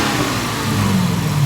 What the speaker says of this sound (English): Charles about to rev it up for me so I can get it